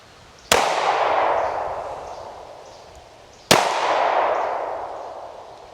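Two loud, close handgun shots spaced about three seconds apart at a shooting range, each a sharp crack followed by a long ringing decay.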